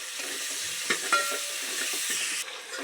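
Tomatoes hit a hot tempering in a pan and are stirred, producing a continuous close sizzle with a few soft clinks and scrapes of the spoon.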